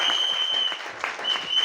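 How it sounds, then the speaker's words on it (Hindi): A hall crowd claps hard for a group team and their MD in a short, dense burst of applause that stays loud throughout. "यहां पर मैं चाहूंगा मेरे पूरे ग्रुप टीम और हमारे एमडी सर के लिए जोरदार तालियों के स्वागत है।"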